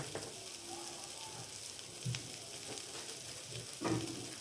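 Chilli chicken sausage pieces fry in a pan with a soft, steady sizzle that stays faint throughout, broken by a few light scrapes of stirring.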